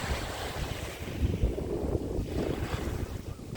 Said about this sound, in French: L'eau qui circule tout doucement.